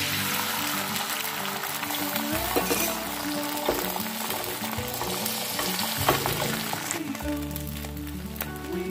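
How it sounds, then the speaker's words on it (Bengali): Beaten egg sizzles in refined oil in a pan, a loud, continuous close frying crackle with occasional stirring scrapes and no voices over it. "এবার দিয়ে দিলাম ফেটিয়ে রাখা ডিমটা।"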